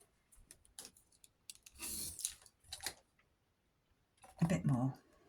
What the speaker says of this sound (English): So I'm going to cut a bit off